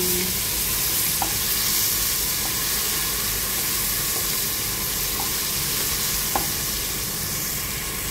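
Garlic sautéing in oil for pork caldereta, a loud, dense, steady hiss and sizzle filling the clip, with a few faint ticks of stirring and no speech.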